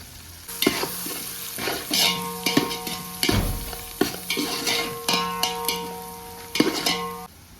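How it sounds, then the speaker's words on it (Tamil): Chili powder sizzles in hot oil for a Hyderabadi chicken biryani, a steady close frying hiss broken by repeated scraping stirs of a spoon in the pan, with no talking. "தனி மிளகாத்தூள் எண்ணெயிலே போட்டுக்கோங்க அப்போ தான் கலர் நல்லா கிடைக்கும்"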